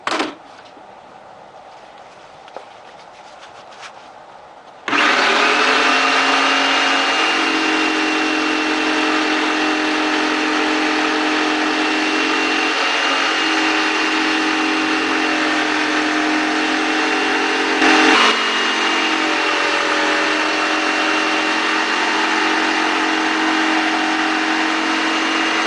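Power tool trimming cut-out polymer slingshot pieces close to a template jig starts with a jolt after a quiet lead-in, then runs as a steady loud whine with a constant drone for the rest, no talking.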